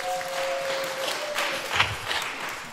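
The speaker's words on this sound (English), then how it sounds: "Seriously, can we get a round of applause for that?" Quiet applause from the audience at a live podcast taping about secondhand clothing ethics, a soft, continuous patter of clapping heard from a distance with no voices over it.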